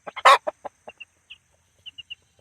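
Young chickens on a homestead cluck and chirp in short, separate bursts, one louder squawk near the start, then quieter clucks and a few faint high peeps, close by with no talk.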